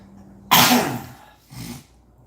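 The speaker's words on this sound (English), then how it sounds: "But I can't quit coughing and hacking down here." A person gives one loud, harsh hacking cough followed a second later by a shorter, weaker one, close and dry, with a quiet room between them.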